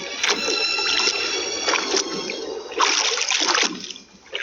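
Oars splashing and dipping as a small boat is rowed on the ocean, rhythmic watery strokes and sloshing repeated several times, close and fairly loud.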